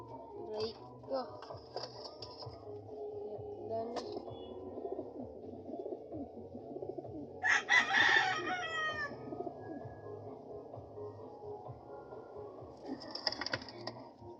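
Pigeons coo softly amid background noise, with a short burst of louder bird calls around the middle and another near the end, faint steady hum underneath.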